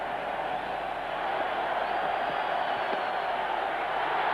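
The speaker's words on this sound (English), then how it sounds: "The crowd is delirious." A cricket crowd at an India match roars in a steady, dense wall of cheering and noise that holds at an even level throughout, with no single voice standing out.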